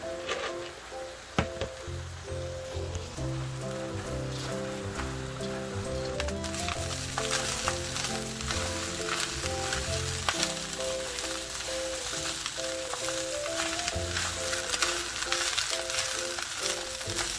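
Leftover rice frying in a pan for shrimp and egg fried rice, a continuous crackling sizzle with tonal hum underneath, steady and fairly quiet throughout.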